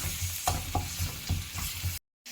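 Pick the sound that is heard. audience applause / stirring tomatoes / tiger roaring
stirring tomatoes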